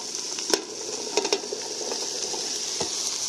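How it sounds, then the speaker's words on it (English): Chopped asparagus stirred into onions in a hot pot, with a steady sizzle of frying under a few soft scrapes and clinks of the spoon, close up and moderately quiet. "We're going to stir that in, mix that in with the onion, get them coated a little bit."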